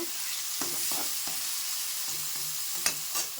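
Rice sizzles softly in a hot pan while a utensil scrapes and stirs it several times, with a couple of sharper knocks near the end.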